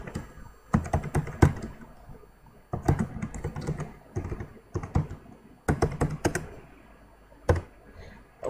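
Bursts of typing on a computer keyboard, quick clusters of key taps separated by short pauses, close and clear.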